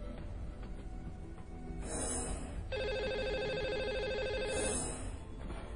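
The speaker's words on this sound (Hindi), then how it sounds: "चलिए, अब वक्त हो गया है लकी कॉलर से बात करने का, तो मिलाते हैं उनको फोन।" A telephone rings repeatedly on a radio show line as the host dials a lucky caller, the loud trilling bursts standing alone with no talk over them.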